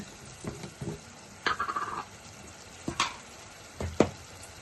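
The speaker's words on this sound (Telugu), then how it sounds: "వేసుకుని కూడా నూనెలో మగ్గబెట్టుకుందాం ఒక రెండు నిమిషాలు" Spiny gourd curry sautéing in oil in a pan, with soft sizzling and several short bursts of stirring scrapes, close and fairly quiet with brief pauses between.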